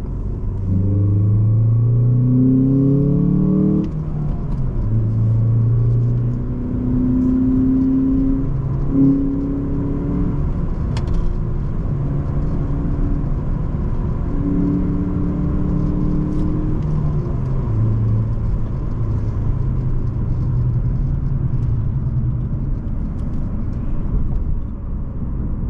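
A car in a handling test accelerates and drives on, its engine note climbing and falling through several gear pulls, with a steady road rumble underneath from start to finish.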